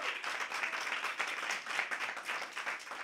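A small crowd of radio station staff in a performance studio claps and cheers for a live performer, a dense, steady burst of applause heard close.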